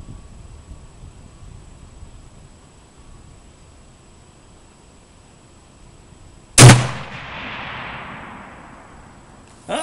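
One loud, sharp rifle shot cracks out in a World War II era shooting game, with a long rumbling tail decaying over a quiet, faintly hissing background, then a second abrupt hit right at the end.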